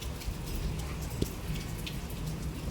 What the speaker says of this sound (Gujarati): અત્યારે જોઈ શકો છો વરસાદ ધીમો પડી ગયો છે